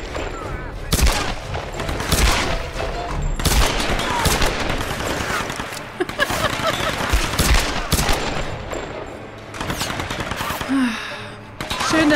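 Rapid bursts of enemy machine-gun fire rain down from above in the Tomb Raider game, sharp repeated volleys that stay loud and dense throughout, with heavy impact thuds mixed in.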